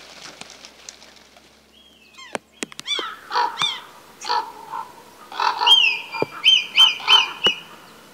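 A bird calls in a series of harsh, cawing notes against a quiet outdoor background, with a sharp tonal whistle near the end.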